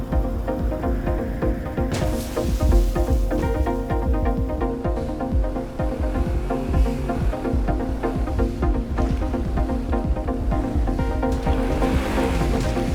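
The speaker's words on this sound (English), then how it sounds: "He switches to a green speedboat." A green speedboat races across ocean water in GTA 5, with a steady loud roar of engine and rushing spray running continuously, plus splashes and surging wash throughout.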